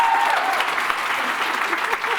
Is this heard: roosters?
no